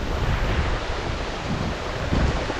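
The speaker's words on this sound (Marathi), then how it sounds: "कसला वारा सुटला सोसाट्याचा" Strong wind buffets the microphone in heavy, rumbling gusts at Banganga waterfall, a constant roaring rush with low thumps, no voices.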